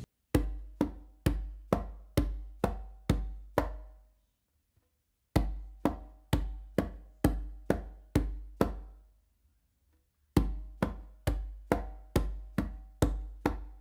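A conga groove plays bass hits on the downbeats and tips on the upbeats in steady, crisp repeated strokes. Three short phrases are separated by brief pauses, sounding close and alone.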